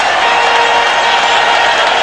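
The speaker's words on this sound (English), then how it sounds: "He'll just dribble out the clock, and the fans are on their feet." Dense, sustained roar of a sellout basketball arena crowd cheering at a New Orleans Hornets home game in the New Orleans Arena, loud and continuous with no breaks, a wash of many voices and applause.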